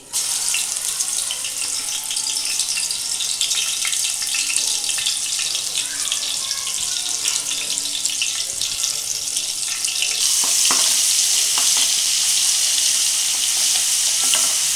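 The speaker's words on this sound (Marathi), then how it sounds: "तेल गरम झाल्यास लसूण अद्रक पेस्ट टाकून घ्यायची" Ginger-garlic paste sputters in hot oil beside tomato paste for a live crab curry, a loud continuous sizzle that grows brighter near the end, with some watery hiss mixed in.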